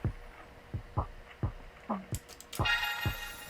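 A producer's homemade drum loop of steady, punchy kick-and-snare style hits repeating about every half second, with crashes and a rising tonal sweep layered in toward the end, loud and alone.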